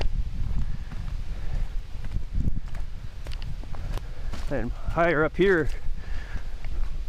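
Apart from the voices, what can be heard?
wind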